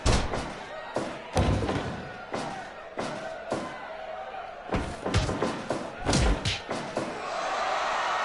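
Wrestling strikes landing in the video game Fire Pro Wrestling World, a run of heavy slamming thuds at irregular intervals over faint crowd noise.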